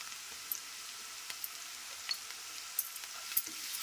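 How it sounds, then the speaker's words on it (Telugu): Ginger garlic paste with turmeric frying in oil over fried onions, a soft steady sizzle with occasional faint clinks and scrapes of stirring, fairly quiet and close. "అల్లం వెల్లిపాయ పేస్ట్ పచ్చివాసన పోయే వరకు ఫ్రై చేసుకోవాలండి."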